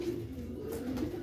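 A pigeon coos low and close, a soft steady throaty murmur with a slight rise near the end, heard alone and clearly.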